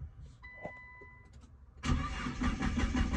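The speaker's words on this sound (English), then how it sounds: "I'm gonna start the car right now." A Nissan GT-R R35 with a P1220 fault code being started: after a quiet interior with a faint electronic tone, the engine cranks and catches loudly, running on steadily close by.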